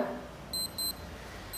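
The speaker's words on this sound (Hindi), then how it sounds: "अभी गाइस हमारा अलार्म बोल रहा है, आप देख सकते हैं पी पर" Two quick high-pitched electronic beeps from a G-Shock sports watch alarm sound close by over a faint background hiss.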